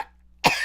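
A single sharp, close cough bursts out after a short quiet pause, loud and breathy, with a faint trailing hiss and no speech around it.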